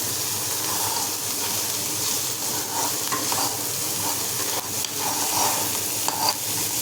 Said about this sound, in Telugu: చిన్న స్పూన్ తీసుకొని తిప్పేసుకుందాం దీన్ని